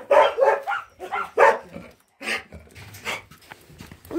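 Several dogs at an animal shelter bark in bursts, a few sharp yips and barks close by with gaps between, mixed with some whimpering and panting.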